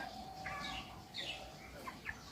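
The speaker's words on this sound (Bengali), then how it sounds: "এখানে তিনটা মুরগি আনছি" A few chickens cluck quietly in short, intermittent calls against a faint background hum.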